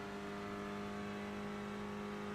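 A race car engine in the iRacing sim game drones at steady high revs, a constant harmonic whine with no break, heard alone.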